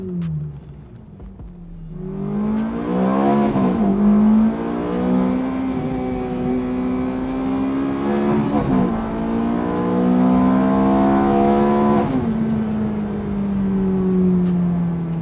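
A Ferrari F430 engine revs hard under acceleration, loud and close, with a rising howl that climbs through several gear changes and drops briefly between shifts before pulling up again.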